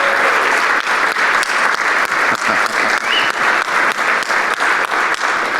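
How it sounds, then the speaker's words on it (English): Security summit audience giving a round of applause, loud close clapping in a steady rhythmic pulse, alone without talk. "Let's give a round of applause for Mary Shea."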